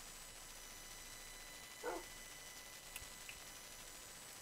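A dog barks once in a Minecraft survival game, a short burst standing out from a quiet, steady ambient hum, followed by a couple of faint clicks.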